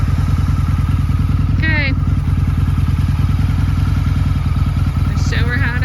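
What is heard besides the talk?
Harley-Davidson motorcycle engine running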